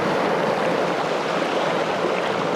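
Seawater surges and washes over coastal rocks in a steady, loud, broadband rush that stays close and continuous throughout, with no voices over it.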